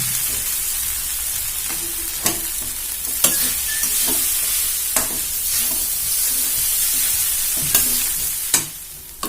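Onion poha with browned peanuts being sautéed in a pan, a continuous sizzle broken by several sharp scrapes and clinks of a spoon stirring against the metal, close and fairly loud.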